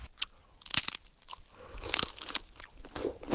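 Close, dry crunching from biting and chewing a dropped granola bar, with several sharp crisp bites in irregular bursts and softer chewing between them, no talking.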